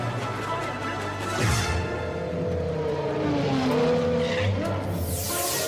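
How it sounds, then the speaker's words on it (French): A car speeds past with tyres squealing and skidding, a loud engine roar and high-pitched screeching sweeping through, overlaid on steady background noise. "Mais qu'est-ce que c'est cette voiture?"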